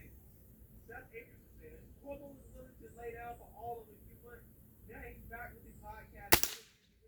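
A single sharp air rifle shot from a Gamo .177 Swarm Magnum break-barrel cracks near the end, loud and abrupt with a short tail, after a stretch of nearby talking.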